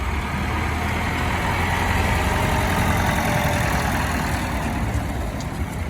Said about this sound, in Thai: รถไถลากขึ้นถ้ารถยนต์มันลื่น